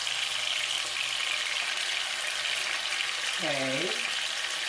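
Chicken fries in a pan with a constant broad hiss and crackle of oil, and a voice speaks briefly over the sizzling.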